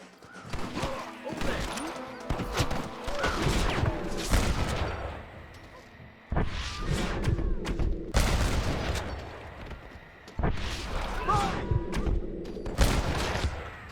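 Rifle fire in the Western video game Red Dead Redemption: repeated loud booming shots with echoing tails come in clustered volleys, mixed with dense game action noise and some talking.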